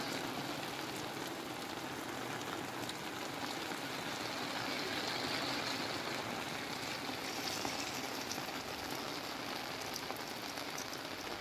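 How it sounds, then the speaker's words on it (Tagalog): Steady rain pours down in a dense, continuous hiss, close and even throughout with no voices. "So, inabutan na kami ng ulan din eh."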